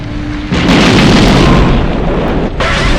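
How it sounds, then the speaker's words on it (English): A loud explosion from the 1989 Bond film Licence to Kill erupts into a sustained roaring blast and rumble lasting about two seconds, followed by a second burst. "This movie has some of the best explosions in a Bond film."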